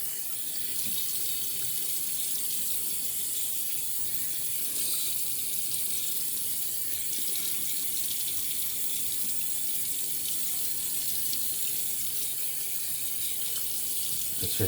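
Tap water runs steadily into a sink while a shaving brush is wetted, a continuous hissing splash at moderate level with no talking.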